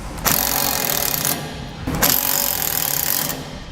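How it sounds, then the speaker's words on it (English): A 3/8 nut driver running hardware to bolt an electrical bracket onto a B&W heavy-duty trailer hitch on a 1988 Ford F-250: two loud, close bursts of whirring power-driver noise, each about a second long, separated by a brief pause. "We'll need a 3/8 nut driver to use the hardware that comes with it to install it."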